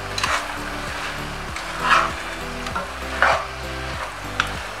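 Mutton stew being stirred in a pot after boiling: a spoon scrapes and sloshes through the thick stew in four slow, regular strokes over a low simmering bubble, close by.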